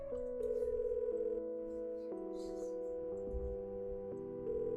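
A telephone dial tone from the point-and-click adventure game Kathy Rain, a steady electronic tone stepping through several pitch changes, continuous and fairly loud with no talking over it.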